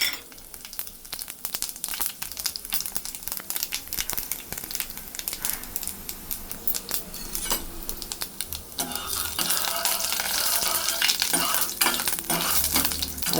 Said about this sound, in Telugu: ముందుగా పోపు దినుసులు వేసుకుందామండి.